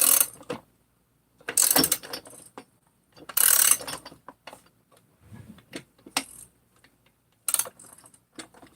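Bolts are tightened with a ratchet in short bursts of rapid clicking separated by quiet pauses, some bursts longer and louder, close to the listener.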